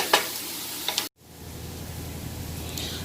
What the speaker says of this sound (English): while the veggies are cooking